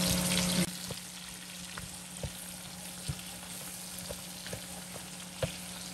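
Pinakbet vegetables with unripe mango sizzling in a pan, a steady frying crackle with periodic sharp clicks of a utensil stirring and scraping, close and continuous after a brief louder burst at the start.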